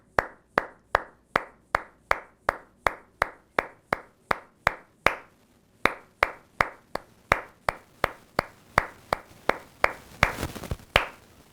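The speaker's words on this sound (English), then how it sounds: "Okay, so let's just clap this." Hands clap a steady rhythm exercise for alto sax practice, sharp close claps in even groups with a brief pause midway, then a quicker, denser flurry near the end, no talking.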